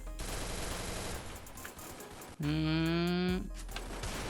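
Gunfire in the Free Fire Max video game on a Ryzen 3 3200G gaming PC, a quick series of close shots followed by a loud sustained tonal game sound, with no voices.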